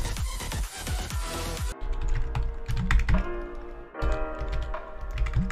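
Computer keyboard typing a git command in a Linux terminal, a fast burst of close, crisp key taps that pauses briefly and resumes at an uneven rhythm.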